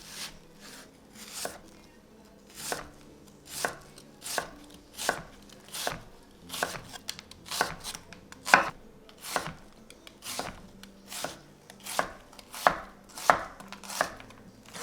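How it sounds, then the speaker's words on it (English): Onions chopped on a board with a knife in a steady, even rhythm, about two crisp close-up strikes per second, with no talking. "Here's a nice little ASMR onion chopping."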